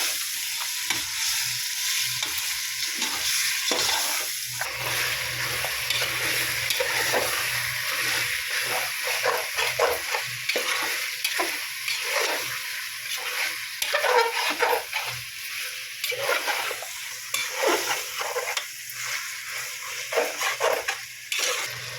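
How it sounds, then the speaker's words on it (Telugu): Mutton biryani sizzles in a pot while a ladle stirs it, with repeated scraping strokes against the metal over a constant frying hiss, close and steady with no voices. "బాగా కలుపుకోవాలి."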